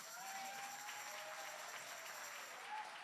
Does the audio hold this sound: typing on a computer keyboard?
no